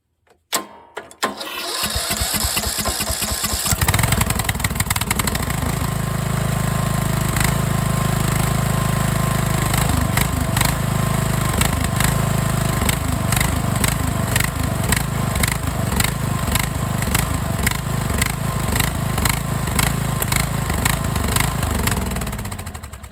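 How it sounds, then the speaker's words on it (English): A Craftsman LT1000 lawn tractor engine starts and runs continuously for over twenty seconds with a loud, close, uneven drone that sputters and surges as it runs short of fuel through a makeshift fuel setup. "This is just running out of gas from this stupid fuel doohickey that someone's hooked up."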